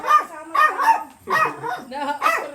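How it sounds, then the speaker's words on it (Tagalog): Agitated dog barking in quick, high-pitched bursts, several yips and barks in three clusters close by, with brief whimpering between them. "High blood itong aso na to."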